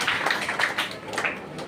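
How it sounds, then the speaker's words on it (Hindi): An audience at a political rally claps, a brief patter of scattered hand claps, moderately close and uneven, lasting under two seconds. "इसलिए इनके लिए दोबारा से ताली बजाइए"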